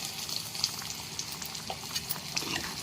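Talimpu tempering of spices frying in a pan for a Telugu home meal with bhindi karam and dosakaya pappu, a steady close crackling sizzle with small pops and no voices.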